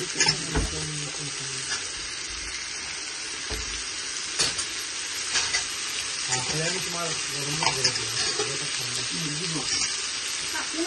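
Potatoes and onions frying in a pan and being stirred, a steady close sizzle broken by scraping stir strokes, with a voice talking faintly underneath.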